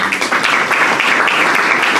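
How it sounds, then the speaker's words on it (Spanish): A church congregation applauds during a worship service, a loud, dense wash of clapping from many people that holds steady throughout, with no speech over it. "Regálele un aplauso al Señor."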